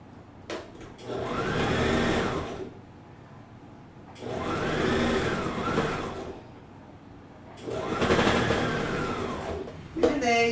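Sewing machine stitching a garment, three loud whirring bursts of about two to three seconds each, separated by short pauses, with faint handling clicks between them.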